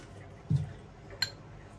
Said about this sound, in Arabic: هجيب بقى معلقتين حليب، احط عليهم معلقه زبادي كبيره بالشكل ده، وهدوبهم